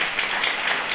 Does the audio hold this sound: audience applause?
yes